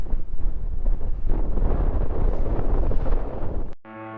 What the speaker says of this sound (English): Oh, that wind is picking right back up.